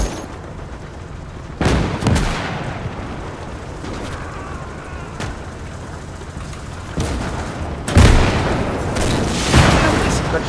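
Gunfire in the World War II video game Gates of Hell, a few sharp loud reports and heavy booms spaced apart over a rumbling battlefield background, with occasional voices underneath.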